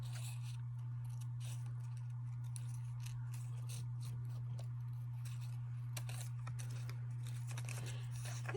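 Scissors cut a paper antenna from a toilet paper roll, making quiet repeated snips and crinkles over a constant low hum.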